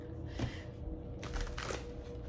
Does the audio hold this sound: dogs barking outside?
no